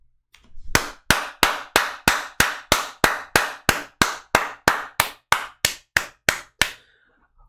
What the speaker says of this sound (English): A round of applause for this woman